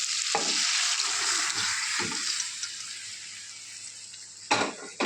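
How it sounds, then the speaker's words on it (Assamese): Black lentils (mati dal) are tipped into chicken and onion sizzling in a pan, giving a steady loud hiss broken by a few clattering bursts as they go in, the sizzle easing slightly over time. "এতিয়া মই ইয়াতে দিম এয়া মাটিৰ দাইল"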